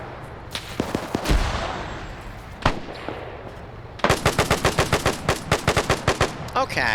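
Gunfire in a WW2 video game: a few scattered single shots, then a rapid, loud machine-gun burst firing in an even rhythm, with a brief spoken word.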